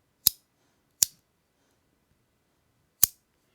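A Click Bar Supreme fidget toy gives three sharp, crisp clicks: two close together, then a pause before a third, each isolated against near silence.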